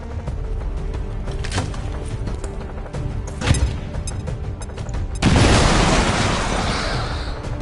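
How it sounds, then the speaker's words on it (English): A grenade bursts in the video game XCOM 2 with a sudden loud, broad blast that rolls into a long rumbling roar, after a stretch of quieter battle noise and scattered impacts. "Grenade out!"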